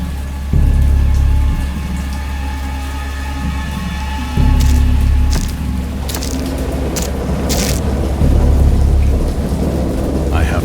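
Heavy rain and rolling thunder in the video game Dagon, with a steady downpour underneath and several deep, loud thunder rumbles and cracks swelling through it, no voices.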